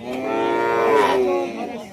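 A two-toothed local dairy cow at the Rajshahi city cattle market gives one loud, close, drawn-out moo lasting most of the two seconds, alone with no talk.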